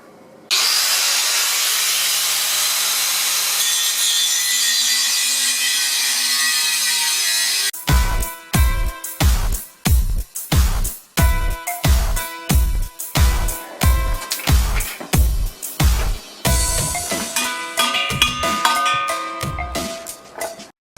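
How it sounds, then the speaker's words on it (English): Power tool cutting corrosion out of a Land Rover Salisbury axle: a steady high whine for several seconds, then a long run of loud, rapid, repeated grinding or hacking strokes up close. "so I'm going to cut that corrosion out there"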